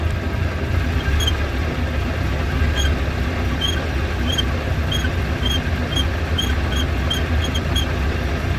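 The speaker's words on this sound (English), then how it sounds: "The other thing I've noticed is the car's developed a squeak," A pre-war car idles with a low, steady engine rumble while a faint, squeaky throttle linkage gives short, high chirps that repeat at irregular intervals under the engine noise.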